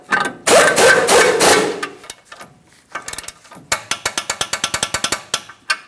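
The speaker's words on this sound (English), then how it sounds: "I'm going to torque that to 59 foot-pounds" A ratchet wrench tightens the tie rod mounting nut on a Ford Transit 250 van, first a quick run of rapid clicking, then short bursts, and finally a steady series of distinct, evenly spaced ratchet clicks, close up.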